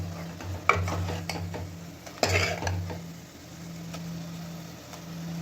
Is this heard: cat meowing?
no